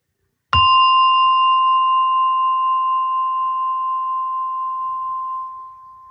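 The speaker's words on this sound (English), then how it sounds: "As you hear the gong, and relax yourself and sit comfortably." A meditation gong is struck once, a sharp clear strike followed by a long, pure ringing tone that slowly fades over several seconds in a quiet room.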